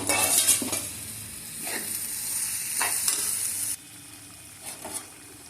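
Raw mango pieces dropped into a sizzling pan for a brinjal and red pumpkin pulusu and stirred: a loud, bright hiss of frying that cuts off sharply partway, with a few soft scrapes and clinks of a spoon.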